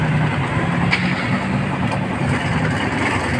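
A repaired motorcycle engine fires up and settles into a steady, fairly loud idle, its low rumble running unbroken with no voices over it.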